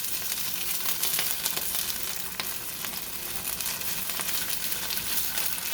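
Chicken pieces fry in a pan with a steady, close, dense sizzle and crackle, flecked with small pops and the odd scrape of stirring, continuous throughout with no voices.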